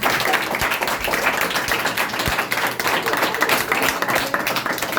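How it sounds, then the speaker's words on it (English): After a classroom debate on Western and Indian culture, a group of students claps for the debaters. The clapping is loose and moderately loud, with individual claps audible in an irregular patter for a few seconds. "so clap everyone for them."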